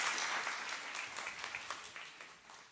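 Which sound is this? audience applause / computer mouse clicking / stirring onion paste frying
audience applause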